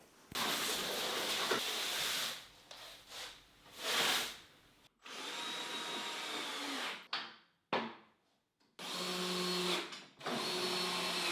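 A power drill driving screws for a curtain track rail into a wooden ceiling in a studio, in repeated loud whirring bursts of a few seconds each, separated by short pauses.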